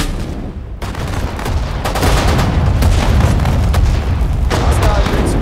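Gunfire and artillery from the Sudden Strike 4 war strategy game, Japanese campaign: a dense, continuous roar of shots and booms at steady high loudness after a brief lull near the start.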